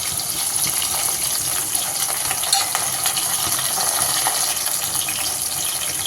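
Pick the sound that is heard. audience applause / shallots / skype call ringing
shallots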